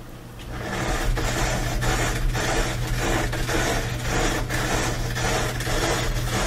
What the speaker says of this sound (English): Sounds like some kind of a metal rubbing noise.